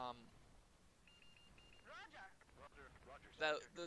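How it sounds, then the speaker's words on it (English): A short run of steady electronic beeps in quick succession, a missile lock-on warning in MechWarrior 4, followed by a voice talking and brief game-like sound effects. "those beeping sound, those are the missile lock-on noises."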